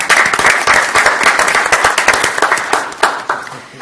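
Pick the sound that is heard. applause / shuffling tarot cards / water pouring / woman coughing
applause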